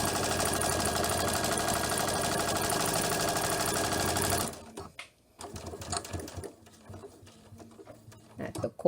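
A sewing machine with a multi-function foot pedal and knee lever stitches through bulky layered fabric from a corner, a loud continuous close whir for several seconds that stops abruptly, followed by quieter handling noises and talking.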